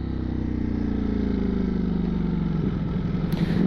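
A Ducati Streetfighter V4S motorcycle engine runs with a steady, fairly close low rumble that shifts to a rougher, pulsing beat near the end.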